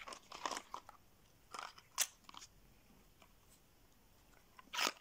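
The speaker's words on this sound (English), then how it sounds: "ramble gum chewing video today" Close, wet crunching of gum being chewed, several irregular bites and squishes spaced through a quiet room, with no one talking.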